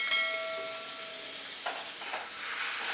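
Tomato sautés in a pan over medium gas with spices, a soft steady sizzle with a brief tonal whine early on and a couple of faint scraping stirs near the end.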